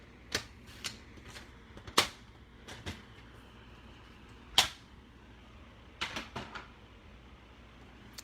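Paper trimmer slicing cardstock, a series of faint sharp clicks and snaps scattered irregularly, close and quiet with no talking.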